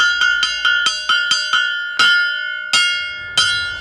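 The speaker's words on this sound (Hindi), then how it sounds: "अगले 5 मिनट में यहाँ ट्रेन आने वाली है, जिसकी सूचना घंटी बजा के दी जा रही है।" A railway station bell at a village station in India is struck to announce an arriving train, ringing in a series of loud, clear metallic strikes, quick at first and then spaced farther apart, each with a long ringing decay.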